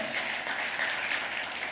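A steady wash of applause from a church congregation, continuous and moderately loud, with no distinct individual claps.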